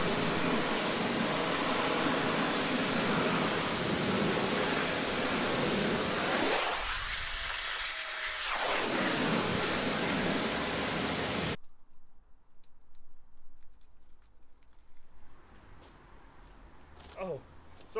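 Water from a hose or pressure washer rinses sudsy cleaning product off a car, a loud steady spray that dips briefly midway, then cuts off to quieter handling sounds.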